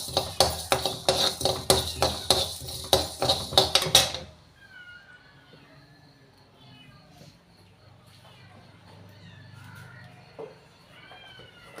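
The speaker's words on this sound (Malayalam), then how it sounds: "കൂട്ടി വെച്ചത് 1 സ്പൂണ് പച്ചമല്ലി. ഇതൊന്ന് വറുത്തെടുക്കണം." A spoon of coriander seeds tossed in a hot pan, with a quick run of about a dozen sharp, rhythmic scraping clatters that stop abruptly, followed by a faint crackle while the seeds roast quietly.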